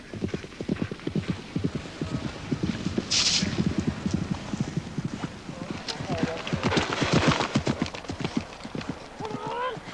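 A horse gallops on the cross-country course at the 1978 Junior European Championships at Burghley, its rhythmic, steady hoofbeats drumming close by under a commentator's voice.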